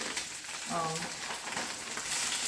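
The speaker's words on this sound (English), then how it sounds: "olive oil in the pan. And so that's what's making all that noise right there." Steamed chicken meatballs sizzle and spatter loudly in hot olive oil in a skillet, a dense continuous crackle up close, with a brief low tone rising through it.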